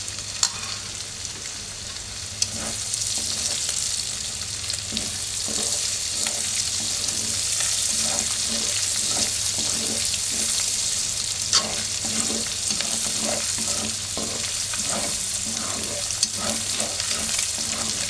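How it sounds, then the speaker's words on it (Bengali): A beaten egg is stirred into flattened rice (chira pulao) frying in a pan, giving a steady close sizzle with scraping stir strokes throughout and no talk. "এখন আমি ডিমটাকে ভালো করে মিক্স করে নেব"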